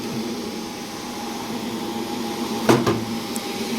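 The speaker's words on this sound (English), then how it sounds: "we'll turn on our vacuum and then press print" The vacuum table of a RapidColor Package Pro printer switches on, giving a steady whirring hum that fills the room, broken by a couple of sharp clicks near the end.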